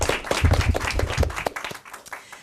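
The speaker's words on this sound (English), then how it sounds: "A big round of applause for the people who did the hard work" An elementary derby event crowd claps for the winning team in a brief burst of dense applause that fades out within a couple of seconds.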